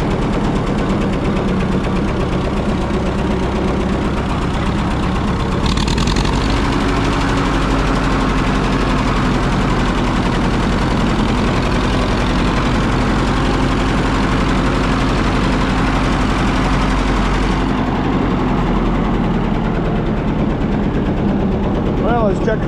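Minneapolis-Moline ZBE tractor engine running steadily while the tractor drives, a continuous loud low rumble with a faint whine throughout and no talk over it.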